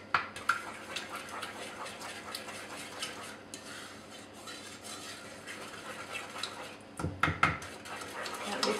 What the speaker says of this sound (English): We'll just give that a really good stir.